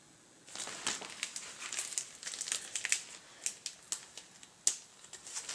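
Plastic comic book mailer bag being handled and pulled open, a run of crisp crinkles and sharp crackles, close and fairly quiet, starting after a brief hush.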